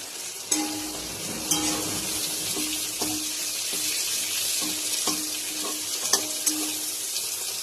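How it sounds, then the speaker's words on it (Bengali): Whole cumin seeds and bay leaf temper in hot oil for a Bengali fish curry with a continuous bright sizzle. Small pops and crackles come at irregular intervals, close and moderately loud. "মটর, গোটা জিরা ফোড়ন, তেজপাতা ফোড়ন"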